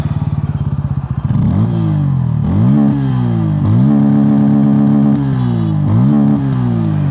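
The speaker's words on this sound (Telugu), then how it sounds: "ఒకసారి ఎగ్జాస్ట్ సౌండ్ వినండి." A 2025 Bajaj Pulsar N160 base model, with a two-valve air-cooled engine and an underbelly exhaust, idles with a steady, fairly loud thrum and is then blipped through several rising revs that fall back to idle, heard up close.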